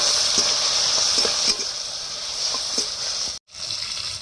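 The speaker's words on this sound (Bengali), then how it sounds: "এই যে বন্ধুরা দেখুন চিংড়িটা ভাজা হচ্ছে" Shrimp seasoned with turmeric and salt fry in a pan, a constant close sizzle with occasional stirring clicks and a brief cut near the end.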